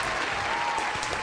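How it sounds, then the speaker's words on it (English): A man claps for himself on a talk show, heard as a short, steady burst of dense applause-like clapping that lasts about a second at moderate volume, with no voices over it. "I'm gonna clap for myself on this one"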